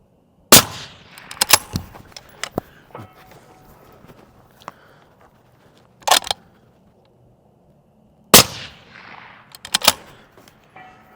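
Accuracy International AT-X rifle firing five shots in two bursts with a reload between: three sharp, loud reports close together, a pause, then two more, with faint handling clicks in between.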